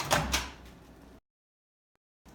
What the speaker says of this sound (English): Open the microwave.